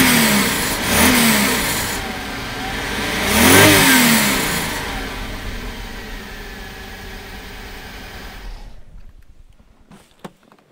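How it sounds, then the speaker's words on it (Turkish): Mercedes 560SEC (C126/W126) V8 engine revving in two loud, rising bursts, then settling into a smoother idle that fades away, with a sharp click near the end. "Bu tatlı bir V8 motor sesi bizim çok hoşumuza gitti."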